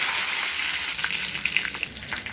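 Curry leaves dropped into hot oil with mustard seeds for a tempering sizzle loudly and steadily close by, a dense crackling hiss with small pops and no talk.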